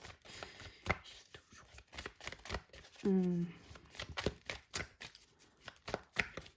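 Tarot cards being shuffled in a repeated run of short, crisp riffling bursts, close and moderately loud, with someone speaking French over the shuffling.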